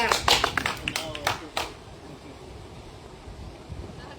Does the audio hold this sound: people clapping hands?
yes